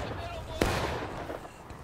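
A single sharp musket shot cracks out mid-clip in the Civil War video game War of Rights, standing out from a noisy background of distant battle din and murmuring voices.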